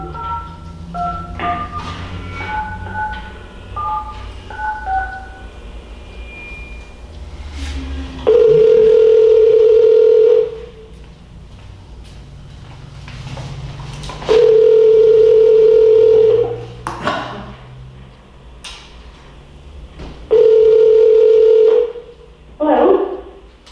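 Telephone dial tone on a call placed into a town council meeting, sounding three times as steady sustained tones of about two seconds each, separated by quieter stretches of room noise and faint voices.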